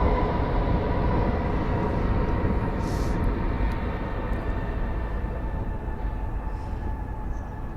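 Airliner landing late and floating down the runway at Melbourne Airport, a steady, loud broadband roar of engine and air noise that holds throughout with slight fading, heard from a distance.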